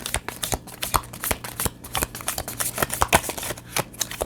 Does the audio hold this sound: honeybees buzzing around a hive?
no